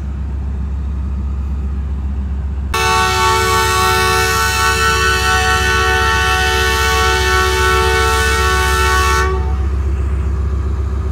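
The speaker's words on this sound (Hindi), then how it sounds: "ये खड़ी है हमारी कराक्रम एक्सप्रेस और ये रही हमारी मिलत एक्सप्रेस।" Millat Express stands at a station beside the Karakoram Express in Pakistan, hauled by locomotive ZCU36319, with a deep diesel rumble running throughout and a loud, sustained horn blast of about six seconds sounding close by.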